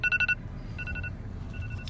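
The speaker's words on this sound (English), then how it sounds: "Oh, we set a timer." A game timer alarm in a Minecraft roleplay session sounds as a short electronic beeping pattern, three quick bursts at the start and then two softer repeats, over low background noise.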